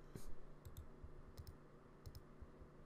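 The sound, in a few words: computer mouse right click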